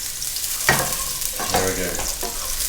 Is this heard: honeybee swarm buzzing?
no